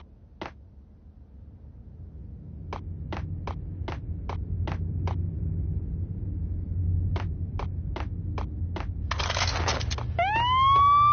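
A police siren in the Max Payne video game wails in at the end, rising above a low hum and a series of sharp, evenly spaced clicks or ticks.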